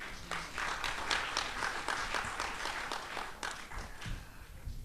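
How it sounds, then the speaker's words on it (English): An audience claps for primary school performers at a recycling competition awards ceremony in Treasure Beach, a steady, fairly quiet wash of many hands lasting throughout with no voices over it. "I think you really ought to give yourselves a round of applause for that."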